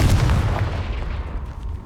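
A Confringo blasting spell explodes in the Hogwarts Legacy video game, a loud, low booming burst that rumbles and fades over about two seconds.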